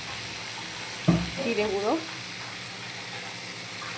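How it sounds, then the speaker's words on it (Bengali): Shrimp frying in a pan with turmeric and spices, a soft steady sizzle under someone speaking briefly, with a short stir near the middle. "মাছগুলো খুব ভালো করে ভেজে নিতে হবে।"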